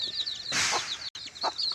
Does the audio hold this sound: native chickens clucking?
yes